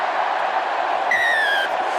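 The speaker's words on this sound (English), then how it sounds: "And the crowd are loving it." A stadium crowd at the London 7s rugby roars in sustained cheering as Spain score a try against France, with a shrill whistle-like tone briefly rising above the dense, steady noise.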